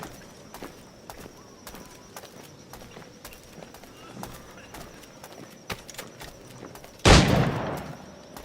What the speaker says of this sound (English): Shooting guns.